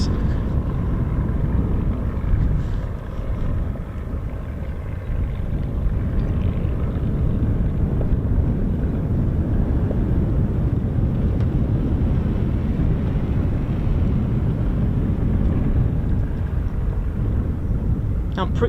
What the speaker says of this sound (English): I'll be quiet now so you can enjoy the Merlin engine.